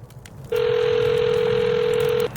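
A telephone ringing tone from an outgoing call in the point-and-click game Memento Mori 2, heard as one long, steady, loud tone over a low background hum.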